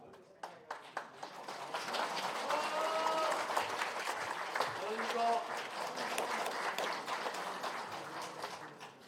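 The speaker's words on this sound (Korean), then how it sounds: "뜨거운 박수로 환영해 주시기 바랍니다" An audience applauding at an association presidential election speech meeting, a long steady crowd clapping that swells and holds, with an announcer's voice over the applause.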